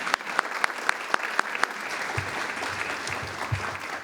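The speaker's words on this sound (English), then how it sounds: "Let's give ourselves a round of applause." An audience at a giving club awards ceremony breaks into sustained applause, dense clapping with a few sharp nearby claps standing out at first, while a voice briefly speaks beneath it toward the end.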